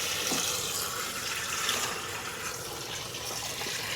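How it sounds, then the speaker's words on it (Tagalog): Strong pressurized water gushing from a pump tap at an agricultural farm in Magalang, Pampanga, a loud steady rushing flow that continues without a break, close by. "Lakas ng pressure ng tubig eh."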